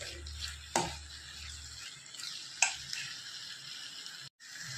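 Soft scraping and stirring of spices in a pan for eggplant curry, with a couple of sharper utensil clinks, over a faint low sizzle; quiet and close.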